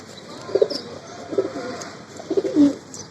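Pigeons, including a male, give several soft, low cooing phrases at a moderate distance, spaced irregularly over a quiet background.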